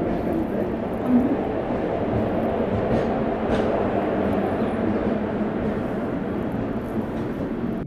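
The Geetanjali Express running, a loud, steady rumble and roar of the moving train heard from inside, with no clear clatter or horn, continuous and unbroken.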